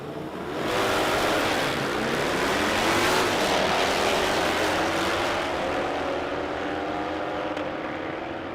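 Drag racing motorcycles at the AMRA Ohio Nitro Nationals launch side by side down the strip, a loud, sustained engine roar that stays close and steady for the whole stretch.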